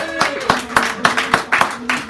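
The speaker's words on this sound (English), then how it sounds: "Nice round of applause, please." A few hands clap in a steady, moderate rhythm, a small scattered applause close to the microphone with a murmured voice beneath, at Sacred Grounds Cafe in San Francisco.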